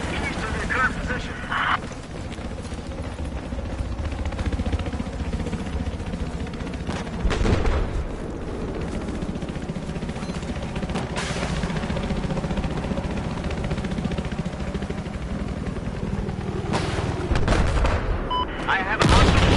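Battlefield 4 combat with continuous machine gun and other gunfire, dense rattling bursts and booms running throughout, with radio-style voices talking over the shooting.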